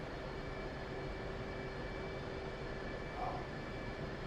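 An F-14 jet flying in the combat flight game DCS World gives a steady, faint engine drone with a low rumble and a constant whine, holding even throughout with no talk.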